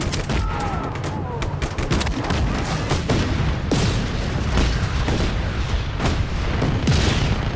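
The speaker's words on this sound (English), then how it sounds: "Wait, who's shooting?" Dense, continuous gunfire and booming blasts from the open-world action game Just Cause 3, rapid overlapping shots and bursts loud throughout with occasional louder cracks, no talk.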